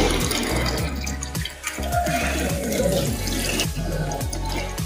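Water pours steadily into a Realme fully automatic washing machine as it fills for a delicate program, a continuous rushing flow with low rhythmic machine thumps underneath and no talk.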